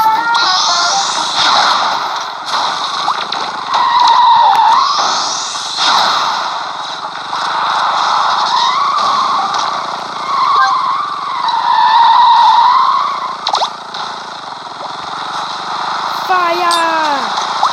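Car boosting and skidding in a racing video game, with shifting engine drone and squealing slides, heard steadily over 18 seconds with loud game audio throughout.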